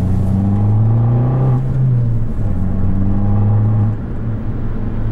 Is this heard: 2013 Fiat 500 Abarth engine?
yes